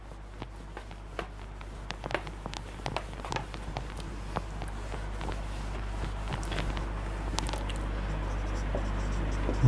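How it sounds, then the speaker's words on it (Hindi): Pen or chalk scratches and taps in short irregular strokes while writing out a Class 10 maths solution, close and fairly soft over a steady low hum, with no talking. "इसके बाद का यहां पे मैं लिख रहा हूं, नोट कर लेना आप"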